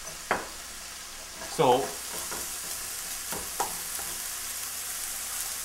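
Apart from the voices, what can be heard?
stir-frying meat for mapo tofu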